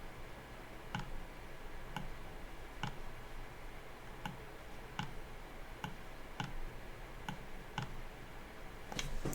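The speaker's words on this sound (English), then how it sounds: "Now I'm left clicking and dragging." Computer mouse buttons clicked during Blender 3D modeling work, about a dozen sharp, evenly spaced clicks roughly every second over a steady low hum, close and moderately loud, with no talking.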